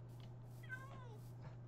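A black cat in the video game Minecraft lets out a single soft, rising-then-falling meow, faint and close, over a low steady hum.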